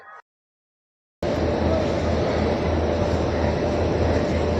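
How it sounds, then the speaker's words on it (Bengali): A loud, steady rumble of the Paharia Express arriving at Howrah station, continuous and close, after a short silent gap at the start. "এই জাস্ট কিছুক্ষণ আগে ট্রেনটা ঢুকলো"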